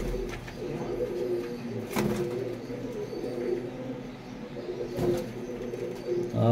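Pigeons coo softly and repeatedly against a busy background, with a few sharp knocks or flutters breaking through.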